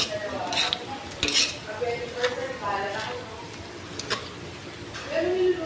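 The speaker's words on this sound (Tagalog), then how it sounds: "Haluin muna natin." Sautéed cabbage is stirred in a pan with repeated metallic clinks and scrapes of a utensil over a low sizzle, while a person speaks throughout.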